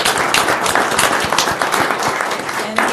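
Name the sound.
applause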